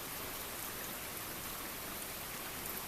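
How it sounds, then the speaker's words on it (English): Steady, even hiss of rain falling on a Memorial Weekend day, a dense, continuous wash of drops at low level with no voices. "It's beautiful rain."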